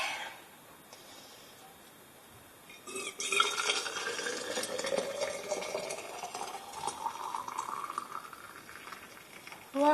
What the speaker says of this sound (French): j'ai de l'eau bien bouillante. On va pouvoir aller ébouillanter tout ça